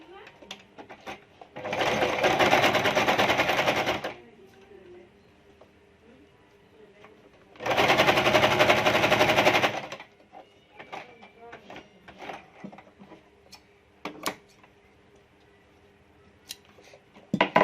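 A sewing machine stitching a cloth mask runs in two loud, steady bursts of about two seconds each, separated by quiet, with light handling clicks between and after.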